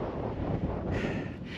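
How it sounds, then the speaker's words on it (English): Strong gusts buffet the microphone on a desert mountain hike up Wasson Peak in Saguaro National Park near Tucson, Arizona, a loud low roar that rises and falls, with brighter surges near the end. "Boy, it's so windy."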